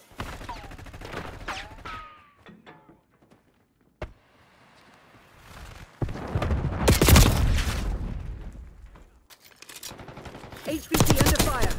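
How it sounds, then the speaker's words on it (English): Bursts of automatic gunfire and firefight noise from the Black Ops 6 video game in Kill Order mode, loud volleys in the middle and again at the end, with quieter stretches and game voice chatter between them. "HVT is taking fire."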